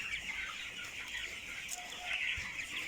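Broiler and native chickens on a farm cluck and chatter softly at a middle distance, a busy layered murmur of fowl calls with a few brighter individual squawks rising above it.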